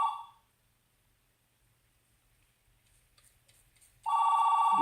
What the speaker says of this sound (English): I got distracted with the phone ringing